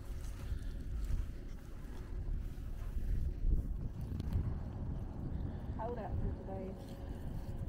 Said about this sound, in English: Yeah, there's a cold wind blowing.